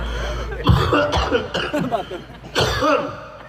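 Several rough coughs and throat-clearing bursts come close together, close to the listener, mixed with voiced breathy sounds over a low background hum, during a Sundanese wayang golek puppet performance.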